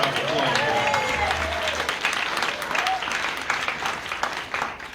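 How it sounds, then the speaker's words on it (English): A crowd applauds steadily for the full stretch, dense clapping with cheers mixed in, fairly loud and continuous. "Give a round of applause."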